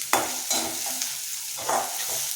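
Onions sizzling and frying in a pan for a spicy prawn gravy, with a few stirring scrapes and clatters over a steady crackling hiss.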